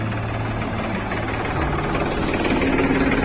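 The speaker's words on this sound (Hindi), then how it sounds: "देखो 1 2 3 करीब 4 ट्रैक्टर आ गया अभी यहाँ पे।" Tractors drive along a flooded road during the Kampur flood, their engines forming a loud, continuous low rumble that swells slightly toward the end, with no voices.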